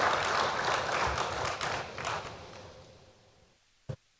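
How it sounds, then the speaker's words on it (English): Applause from an audience at a finance dialogue event, a broad burst of clapping that fades over a few seconds, ending with a single sharp tap. "Please a round of applause."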